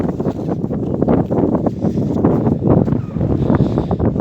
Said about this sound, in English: it's very windy by the way